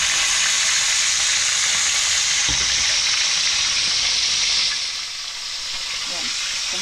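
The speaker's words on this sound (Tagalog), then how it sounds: "tapos na tayo magprito. Dahil luto na yung aking pinerito" Fish sizzling steadily in hot cooking oil, a loud continuous frying hiss that dips briefly near the end.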